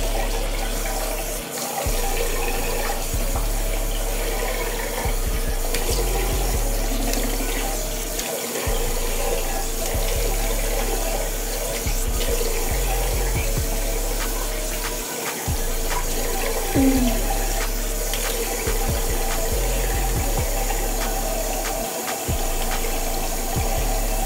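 Tap water runs steadily from a faucet into a sink while a charcoal face mask is washed off, making a continuous close splashing rush with small shifts as hands move through the stream.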